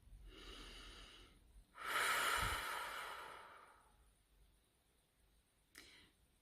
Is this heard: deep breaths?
yes